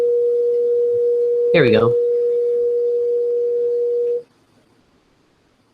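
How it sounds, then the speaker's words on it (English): A pure 440 Hz sine tone from Ableton's Operator synth hums steadily for about four seconds, then cuts off abruptly; someone speaks briefly over it near the start. "440 hertz tone produced with a sine wave"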